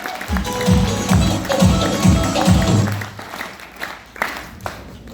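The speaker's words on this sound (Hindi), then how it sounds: "एक बार जोरदार तालियां" Applause from a club audience in Hindi: loud, dense clapping from a crowd that builds, holds for about three seconds, then fades out to scattered claps.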